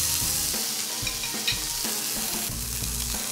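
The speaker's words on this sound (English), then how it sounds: "So we're gonna sear up our boneless ribeye here." Boneless ribeye steaks sear in a hot cast-iron pan, a loud, continuous crackling sizzle broken by a few sharp spits and pops.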